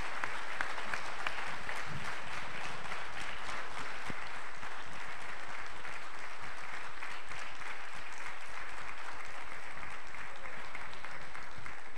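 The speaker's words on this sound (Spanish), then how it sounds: "Le damos un fuerte aplauso al diputado Kunkel." A large audience at a public policy seminar gives deputy Kunkel a long round of applause, a dense sustained roar of clapping hands that stays loud and even for over ten seconds.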